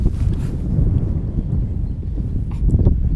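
Spring wind gusts buffet an open boat on still water during zander fishing, a loud, steady low roar of wind against the microphone that swells slightly near the end.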